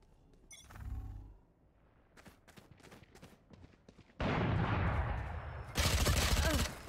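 Video game gunfire comes in bursts: sharp separate shots at first, then loud sustained automatic volleys near the end, with quieter clicks in between.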